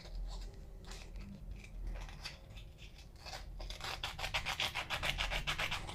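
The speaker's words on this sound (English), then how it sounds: "And now we're going to sand it just to smooth it out the rest of the way." The cut edge of a quarter coin ring is being sanded, a close, rhythmic rubbing rasp that speeds up into quick repeated strokes toward the end.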